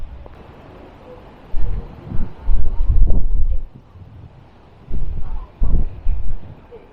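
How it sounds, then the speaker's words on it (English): Wind blows through an open city-centre garden, a low rustling background broken by loud microphone buffeting gusts that come and go in several bursts. "Still a little windy, but dry."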